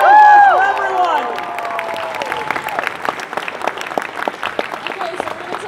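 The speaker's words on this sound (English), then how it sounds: "A huge round of applause for everyone!" An audience at a cosplay show at KrakenCon 2018 breaks into sustained applause, dense clapping with some cheering that carries on steadily, while an amplified voice and music tones sound at the start before fading under the clapping.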